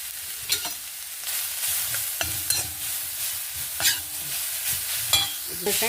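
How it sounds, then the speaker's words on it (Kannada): Carrot pieces frying in hot oil for a carrot chutney, with a steady close sizzle broken by several scraping stirs of the pan, no voices. "ಪುನಃ ಎಣ್ಣೆ ಹಾಕ್ಕೊಂಡು ಈ ಕ್ಯಾರೆಟ್ ಒಂಚೂರು ಬಿಸಿ ಮಾಡ್ಕೊಂಡು ಬಿಡುವ"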